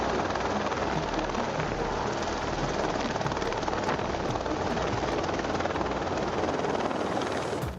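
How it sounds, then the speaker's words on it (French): A firefighting helicopter flies nearby, its rotor and engine making a steady, dense, loud roar that holds unbroken for several seconds before cutting off. "Regardez ce que fait le pilote de cet hélico de pompier pour éteindre un incendie à côté."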